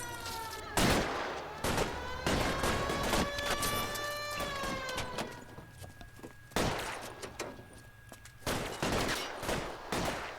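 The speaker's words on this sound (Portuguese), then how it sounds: "Ô louco, tiro." Gunfire in the video game L.A. Noire: sharp, loud shots crack in bursts, several in quick succession with gaps between them, mixed with the game's ringing background tones.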